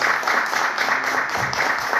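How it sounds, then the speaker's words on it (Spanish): An audience at a book presentation applauds the author with dense, continuous clapping that is loud and close, with a murmur of voices underneath. "vamos a darle un fuerte aplauso para que se anime"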